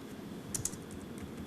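Typing on a computer keyboard during a database class: faint, soft keystroke clicks in a brief cluster of a few taps, quiet and close, no talk over it.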